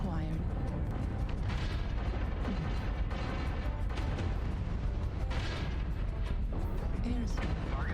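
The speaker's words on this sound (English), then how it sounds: "Airstrike." Airstrike explosions in the video game MechWarrior Online roll as a dense, loud barrage of booms and rumbling blasts that fill the whole stretch, with brief voices surfacing over the din.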